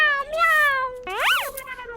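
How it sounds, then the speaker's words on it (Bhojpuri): A cat meows twice nearby, first a drawn-out cry and then a shorter rising-and-falling call, clear against a quiet background. "ये बिलाई कहाँ बोलत यार?"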